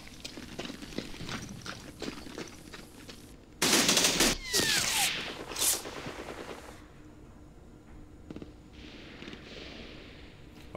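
Artillery barrage in a war video game set in the Second Arab-Israeli War, with a loud burst of explosive fire and rumbling impacts in the middle, framed by scattered gunfire pops before and after.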